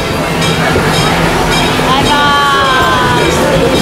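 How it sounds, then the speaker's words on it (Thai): A train pulls into a station at Tokyo Disneyland, rumbling steadily nearby with high metallic brake squeals rising midway, over a constant background of crowd chatter. "นี่เลยรถไฟก็กำลังเข้าท่าแล้ว"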